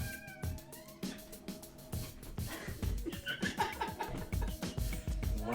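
Cats meow indoors, several close meows and yowls scattered over background chatter and laughter from people playing a card game.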